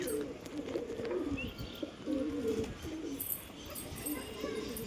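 Pigeons coo softly and repeatedly in short bursts in an unfamiliar new enclosure, fairly faint against a steady background hum.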